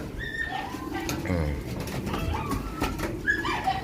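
Pigeons in a loft cooing close by, repeated soft throaty coos overlapping from several birds amid faint rustling, with someone talking intermittently.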